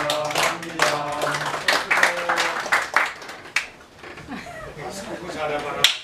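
Small group clapping hands indoors right after a birthday song, a brisk burst of uneven claps up close, mixed with people talking and laughing.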